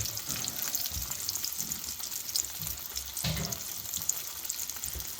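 Cauliflower pieces fry in a pan over a low flame, a soft, steady sizzle and crackle with faint stirring bumps, fairly quiet and continuous.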